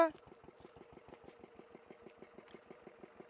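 A homemade motorcycle powered by a Peter diesel engine idles with a steady, rapid putter after a brief louder burst at the start, fairly faint and even throughout.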